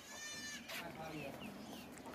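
A goat, a two-toothed sacrificial buck, lets out a loud wavering bleat up close, followed by scuffling and people talking at a livestock market.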